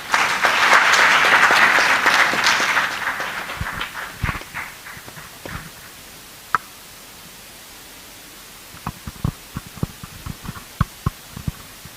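Conference audience applauding, a dense burst of clapping that fades over several seconds into a few scattered, isolated claps.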